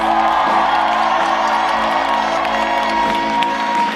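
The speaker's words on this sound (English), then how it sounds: "Please, please give a warm round of applause for the band behind us." Crowd at a live Maryland Night Live comedy show cheering, whooping and applauding for the band, a loud continuous roar of voices and clapping that holds steady throughout.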